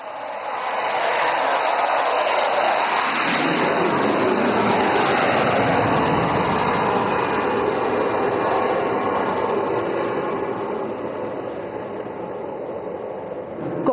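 Fighter jet making a low overshoot above an airfield landing strip, a loud, sustained roaring rush that swells to a peak near the middle and slowly fades as it passes, heard without talk.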